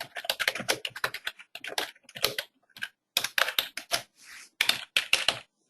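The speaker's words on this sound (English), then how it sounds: "I'm going to type in their work address" Fingers type an address on a computer keyboard in quick close bursts of key clicks, separated by short pauses, with a few slower single taps in between.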